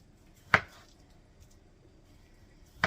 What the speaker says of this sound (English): I'm going to chop these maybe, I don't know if that's maybe a 1/2 inch cut